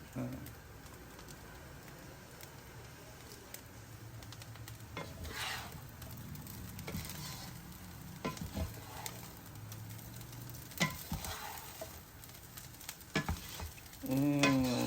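Tomato rice with coriander sizzling softly in a pan while being stirred and mixed, faint frying crackle with occasional spoon scrapes and clinks, under a voice talking.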